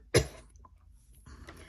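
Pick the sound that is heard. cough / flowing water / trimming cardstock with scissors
cough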